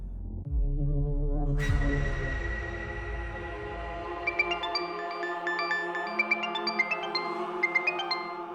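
An incoming call makes a phone ring after a short rumbling stretch. A sustained electronic tone fades out, then a series of bright, evenly spaced ringtone chimes repeats clearly near at hand.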